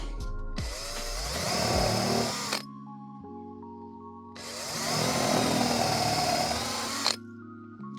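A power drill runs in two long bursts, each about two seconds, with a quiet gap between them, driving a cheap Amazon drill bit; the whining motor sounds close and loud over a low hum.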